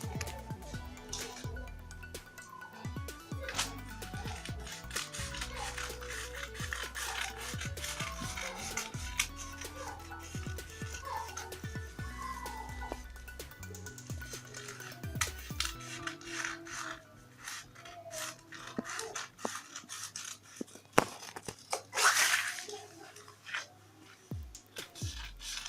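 A fabric sleeve cut out with scissors: soft, close snipping and rasping of blades through cloth, continuous and fairly faint throughout.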